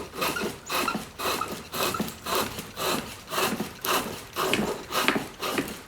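Rhythmic cuts of a pole lathe tool peeling long, thin shavings from green wood, a steady back-and-forth scraping about every half second, close and clear with no talking.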